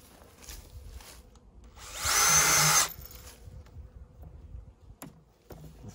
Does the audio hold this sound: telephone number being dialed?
no